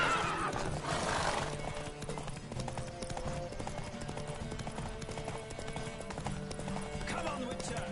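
Galloping hooves clip-clop in a steady, driving rhythm alongside a horse's whinny near the start, all over a continuous musical backdrop, in the video game The Witcher 3.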